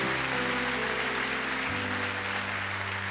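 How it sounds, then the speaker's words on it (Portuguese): A church congregation applauds during an evening worship service, a dense, steady wash of clapping that stays loud throughout, with sustained keyboard chords holding underneath and shifting to a new chord partway through. "aplauda o nome dEle"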